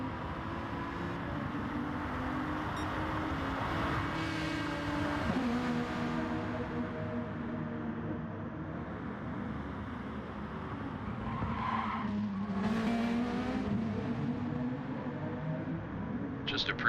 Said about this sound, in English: Just appreciating the difference of engine noises between the Aston Martin and the Volkswagen.